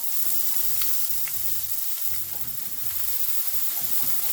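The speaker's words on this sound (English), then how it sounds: "then we are going to cook our veggies. Starting with our onions" Onions and peppers sizzle steadily in avocado oil in a pan, a constant close crackle with faint stirring scrapes throughout.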